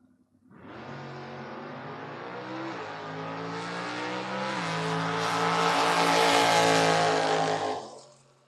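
A drag race car makes a solo bye run, its engine surging from a low rumble into a rising, increasingly loud scream for several seconds before abruptly cutting off.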